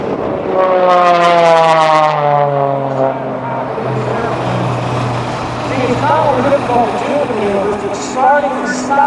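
A propeller airplane drones through aerobatic rolls on an upline, its engine pitch sweeping and shifting, with a commentator talking over the steady roar.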